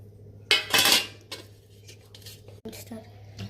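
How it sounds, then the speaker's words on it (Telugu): Seedless tamarind with jaggery, salt, chili and cumin is pounded into a paste, producing a few close knocking and scraping strikes: one long heavy burst, then lighter irregular hits. "దీన్ని మొత్తం మంచిగా దంచుకో, మంచిగా పేస్ట్ అయ్యేదాకా దంచుకోవాలి"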